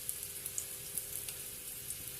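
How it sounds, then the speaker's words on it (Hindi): Chicken cheese gola kebabs fry in hot oil over a medium-low flame, giving a soft, steady sizzle with scattered faint pops and crackles, quiet and close with no voices. "ये देखें, आपने मीडियम से लो फ्लेम पे इनको फ्राई करना है, ताकि ये अंदर से कच्चे ना रहें।"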